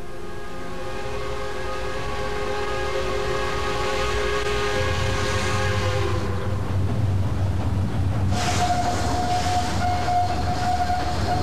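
A Santa Fe Railroad train rumbles steadily for about eleven seconds, a sustained multi-tone horn chord sounding over the first several seconds before giving way to heavy rolling noise and a thinner whistle-like tone near the end.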